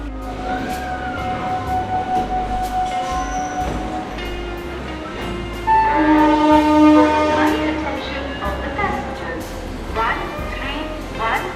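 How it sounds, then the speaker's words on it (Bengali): A train rumbles in with a sustained horn and tonal wheel squeal, loud and close, over a busy station hum with voices. "ট্রেন হয়তো চলে আসছে"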